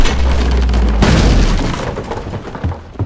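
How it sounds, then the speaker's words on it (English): A cannonball crashes through a roof in a Mario video game, a loud booming impact with shattering debris that stands alone and then fades over a few seconds. "until a freaking cannon goes through the roof"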